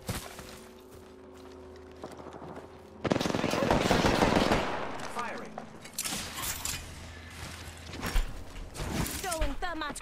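Automatic gunfire in a video game firefight, a long dense burst of rapid shots, followed by more scattered shots and mechanical clatter, with a voice speaking nearby.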